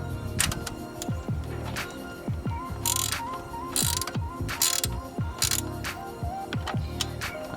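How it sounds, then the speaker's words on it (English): A ratchet tightening a bolt on a splitter fitted to a Ford Fiesta, repeated clicking pawl strokes in short bursts with scraping metal contact, close up and without talk. "So I'll put the ratchet in the top."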